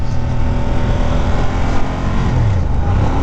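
A 2017 Ducati Diavel motorcycle runs close by, its deep, throaty exhaust rumbling steadily under light revs, loud and continuous with no talk.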